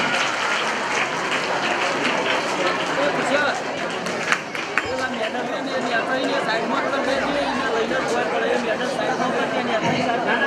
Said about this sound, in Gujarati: આપણે તાળીઓથી મહેમાનનું સ્વાગત કરીએ છીએ